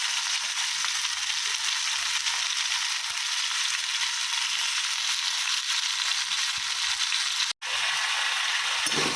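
Ginger and green chili hit a hot frying pan, raising a steady, loud broadband sizzle that runs unbroken apart from one brief dropout near the end.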